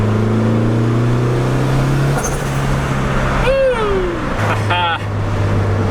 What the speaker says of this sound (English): So you guys just saw the Civic ripping a little bit.